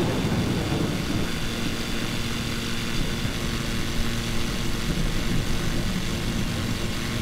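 Steady, dense drone of an airplane engine in flight from a flight simulator game, loud and unchanging for the whole stretch with no talking over it.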